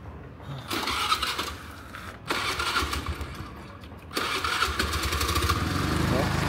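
A heavily worn, carbon-fiber-covered motorbike with 340,000 kilometers is cranked and fires up after a few tries, the engine catching in bursts and then running roughly, loud and close, with voices over it.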